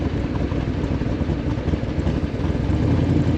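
A 1965 Shelby Cobra 427 replica by Superformance with a 585-horsepower V8 rumbles deep and loud through downshifts, its low drone swelling and easing slightly with the throttle, with no talking over it.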